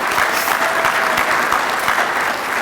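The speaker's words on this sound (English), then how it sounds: "Let's give her an applause" Steady applause from an audience at an evening program honoring a helper named Hope Stein, a dense even patter of clapping that fills the whole moment without a pause.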